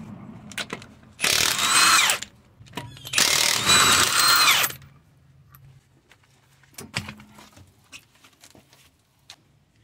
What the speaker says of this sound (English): I'm gonna be removing the tire right now. One more time, 21mm lug nut.